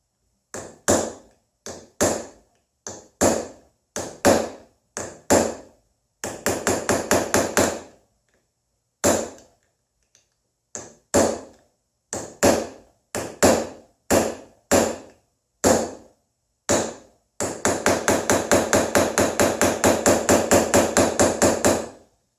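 A hammer strikes a steel chisel while chasing a rose into steel, producing sharp metallic taps in short groups, then fast, even runs of rapid blows, loud and close with near silence between bursts.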